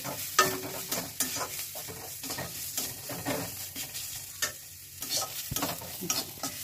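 Ground turmeric, pepper, cumin, chilli and coriander sauté in a pan, a close sizzle punctuated by rhythmic stirring scrapes and taps, moderately loud and without speech.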